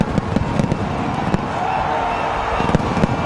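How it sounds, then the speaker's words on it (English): Fireworks bursting in the sky and on the ground during celebrations at the 2011 India vs Sri Lanka Cricket World Cup, a string of sharp, irregular bangs over a continuous crowd roar. "Fireworks are off. They're banging away here, up in the sky, down on the ground."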